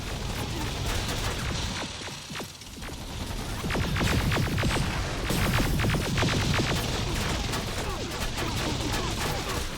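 Rapid bursts of gunfire rattle through a firefight in the video game Terminator Resistance, dense and loud, with clusters of sharp shots overlapping continuously and briefly thinning near the start before intensifying.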